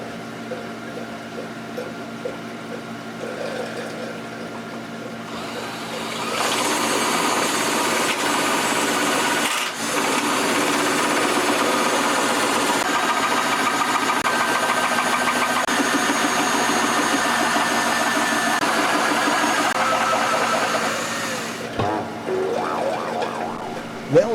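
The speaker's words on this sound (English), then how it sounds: "the battery-operated drill is not the tool of choice" A quiet hum gives way to a battery drill running continuously for about fifteen seconds, steady and close, then stopping.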